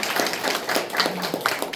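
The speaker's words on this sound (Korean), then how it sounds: "박수 한번 해주십시오." Audience applause in a lecture hall as a professor is welcomed on stage, a dense steady patter of many hands clapping at moderate loudness.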